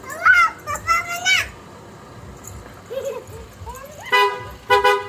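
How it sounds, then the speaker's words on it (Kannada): A car horn toots twice in short bursts near the end, after children chatter and call out excitedly. "ಅವ್ರ ಪಪ್ಪನ ಹಾರ್ನ್ ಕೇಳಿಸಿದ್ರೆ ಅಕ್ಕಿ"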